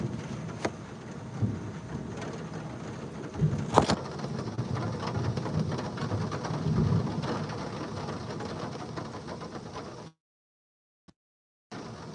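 A live thunderstorm in Nebraska: steady heavy rain pours continuously while thunder rumbles low and sharp cracks strike a few times, the downpour close and constant before cutting off abruptly near the end.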